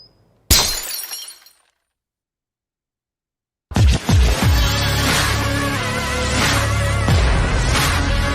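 In a vodka advertisement, a glass bottle smashes in one loud, sudden crash with a short scatter of shards, followed by silence and then music.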